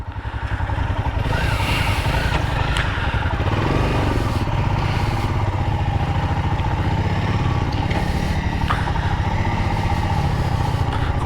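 A Honda CRF trail motorcycle rides off on an English trail, its engine a continuous loud, pulsing rumble that holds steady throughout, heard close by.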